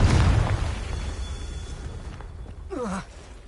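A Confringo fire spell explodes in Hogwarts Legacy with a loud burst up front, then a fading rumble and a short whooshing flare near the end.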